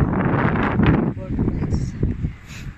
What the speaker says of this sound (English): Sorry, guys, if very noisy because the wind very strong.